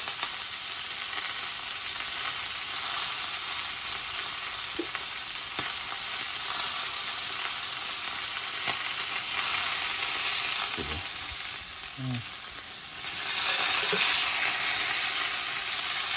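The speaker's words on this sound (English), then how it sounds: "I'm going to cook it on this one edge and just hold it there to get every side nice and browned." A pork tenderloin sears in a hot pan, held on one edge to brown, giving a loud unbroken sizzle throughout with a few soft knocks and shifts of the meat near the end.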